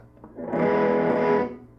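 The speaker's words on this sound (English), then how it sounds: "When engaged, this increases the amount of distortion coming out of the amp." Electric guitar through an amp with the overdrive boost button engaged, a single distorted chord struck and held for about a second before fading, thick and sustained, alone.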